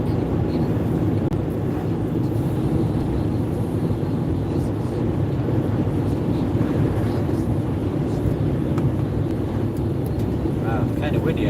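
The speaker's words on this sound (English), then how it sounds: "Wow, kind of windy out here." Steady, blustery wind roars across the microphone while driving a car outdoors, a dense low rumble, constant and close for the whole stretch.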